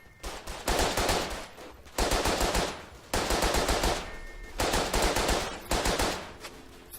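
Loud, close machine-gun fire in the World War I shooter Verdun, four or five long sustained bursts separated by short pauses, with no voices.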